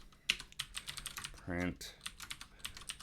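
Computer keyboard typing in quick, uneven bursts of close clicks, broken by a brief spoken word partway through.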